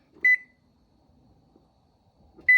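Two short, sharp electronic beeps from an electric stove being set to 450 degrees, about two seconds apart, with faint kitchen clatter in between.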